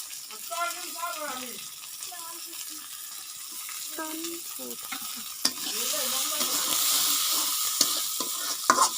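Onion and fenugreek leaves fry and get stirred in a pan at home, a constant close sizzle with scraping, while someone talks over it and the frying grows louder toward the end.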